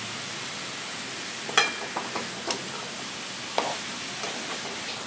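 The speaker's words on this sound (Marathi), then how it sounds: "त्याच्यानंतर गूळ पण आणि खोबरं हे परतून घ्या मस्तपैकी" Chopped jaggery and grated coconut sautéed in a pan for a modak filling, a soft steady sizzle with a few faint scraping stirs, quiet and close.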